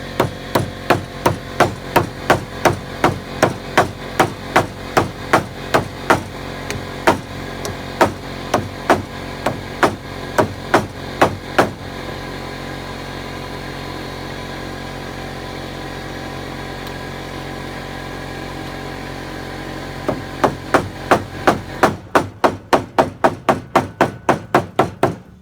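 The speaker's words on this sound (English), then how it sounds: "apologize for the air compressor." An air compressor runs on a backyard chicken coop build site, a steady droning rumble throughout, overlaid by fast regular knocking bursts at the start and again near the end, with a smoother stretch in between.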